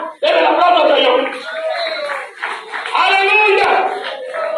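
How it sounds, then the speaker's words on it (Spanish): Church congregation breaking into loud applause mixed with shouts and cheering voices, a dense sustained burst of clapping close by. "Debe el aplauso al Señor."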